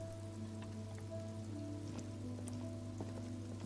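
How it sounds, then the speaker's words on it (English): Rain falls in the video game Disco Elysium, a quiet, steady patter of drops over a low constant hum and faint tonal game music. "Oh, it's raining now."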